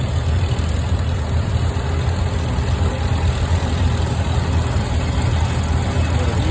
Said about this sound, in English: There's a Farmall M coming.